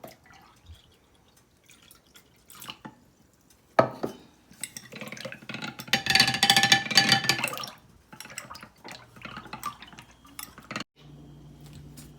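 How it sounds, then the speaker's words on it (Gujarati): Water trickles and splashes into yogurt in a container for a few seconds, making buttermilk, amid quiet kitchen clinks and drips, with stretches of near silence around it. "હવે પાણી રેડી એની છાશ બનાવી દઉં છું"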